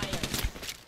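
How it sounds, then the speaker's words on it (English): Rapid gunfire bursts rattle close by in an Apex Legends battle-royale match, several quick overlapping shots packed into under a second. "I'm under fire."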